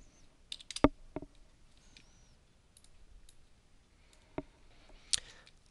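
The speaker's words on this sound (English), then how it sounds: "I'm just going to click on the x-axis." A computer mouse clicks several times, sparse crisp single taps spaced irregularly over a quiet background while sketching in CAD software, with no speech.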